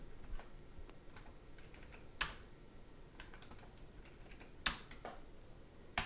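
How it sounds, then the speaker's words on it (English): A computer keyboard is used for navigation, with a few sharp, isolated key presses on the Tab and Space keys. The clicks are quiet and spaced apart over a faint background hiss. "So I'll hit Tab. I'll hit Space on the object and make a selection."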